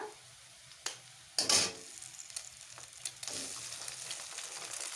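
Egg frying in a pan while a tiffin is being made, with steady sizzling and a few louder bursts and clatters as it hits the oil; no talking.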